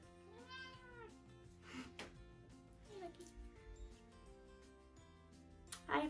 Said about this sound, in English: if you can see my cat in the background eating a cactus